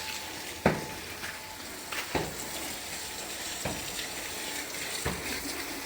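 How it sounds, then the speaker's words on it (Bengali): A motor pump sprays water to wash bricks, splashing steadily with a faint motor hum beneath, broken by a few louder thumps and knocks at intervals. "মোটর চালু দিয়ে ওই যে ইটা ধুইতাছে, ওই যে ইটার মধ্যে পানি মাইরা ইটারে ভিজাইতেছে"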